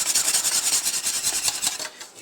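A whisk scrapes quickly around a bowl of powdered sugar mixture, making rhythmic rasping strokes that are close and fairly loud and then slow and fade at the end; no one speaks.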